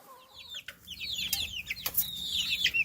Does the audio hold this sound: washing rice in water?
no